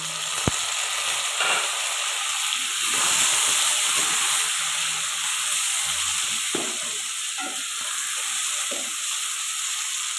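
Tomatoes go into a pan of ginger and garlic frying for karela gosht, raising a steady, close sizzling hiss with faint stirring clicks throughout and no talk.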